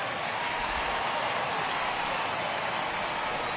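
A stadium crowd in the MLB The Show 22 baseball video game makes a dense, steady wash of cheering and noise, loud and continuous with no distinct voices standing out.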